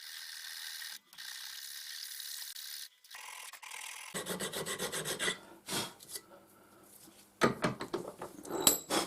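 A German metal door catch is hand-filed, with steady rasping strokes followed by quicker, irregular scraping and a few sharp clicks, close and moderately loud with no talking.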